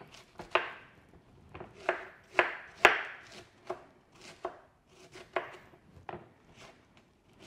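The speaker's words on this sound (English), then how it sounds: "Now I'm going to take some cauliflower, and again, tiny, tiny chopping is the best way to go" A knife chops steadily through cauliflower on a cutting board, irregular crisp taps about once or twice a second, close and fairly quiet.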